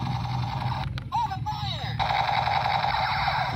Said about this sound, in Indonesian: tembak-tembakan Minecraft